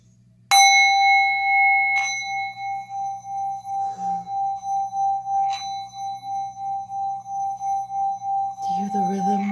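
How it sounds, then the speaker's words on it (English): A bell or singing bowl is struck once and its clear tone rings on, swelling and fading in a steady slow pulse over several seconds, with faint murmuring voices and a softer knock in the background. "Do you hear the rhythm? The rhythm of the bell."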